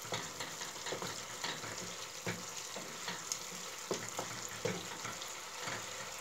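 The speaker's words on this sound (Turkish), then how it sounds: "Şu şekilde salçalara kokusu çıkana kadar kavuruyoruz." Pepper paste sizzles and fries in a pot for lentil vegetable soup, a constant crackling hiss with scattered spoon scrapes and clicks as it is stirred, close and moderately quiet.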